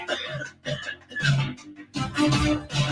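A congested person coughs and sniffles several times in close succession, with thick, breathy throat-clearing sounds up close.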